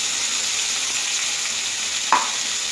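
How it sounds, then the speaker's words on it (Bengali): Tomatoes with ginger and green chilli paste sautéing in hot oil over a gas flame, a loud continuous hiss with one brief stirring scrape near the end. "দিয়ে মশলাটাকে ভালো করে কষিয়ে নেব"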